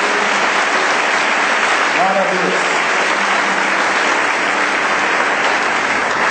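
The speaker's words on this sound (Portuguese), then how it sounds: "Celebre a Deus com as suas palmas" A church congregation claps steadily through a worship service, dense sustained clapping filling the room while a voice calls out briefly over it.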